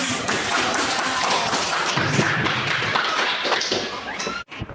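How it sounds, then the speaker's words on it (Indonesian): A classroom of students claps their hands together in dense, sustained applause that holds for about four seconds and then stops abruptly. "tepuk tangan untuk Tuhan"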